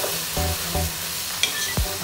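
Shiitake mushrooms are stirred into ground beef frying in a pan, giving a loud steady sizzle broken by a few scraping stirs and clunks of the utensil.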